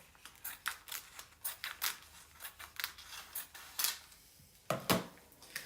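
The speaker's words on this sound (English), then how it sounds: "So I just cut my little piece off the roll and then I roll the rest up." Scissors snip a piece of parchment paper off the roll in a steady run of sharp crisp cuts, close and clear, with a couple of louder final snips.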